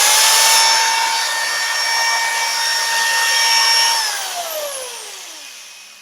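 A drill-driven setup spins a wooden dowel while it is buffed smooth with sawdust and shavings, a steady high motor whine with a rubbing hiss that then spins down, its pitch sliding lower as it fades out.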